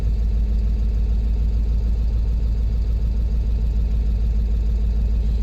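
A Ford 7.3 Powerstroke diesel truck engine with high mileage idles close and loud, a steady low rumbling clatter that stays even throughout with no voices.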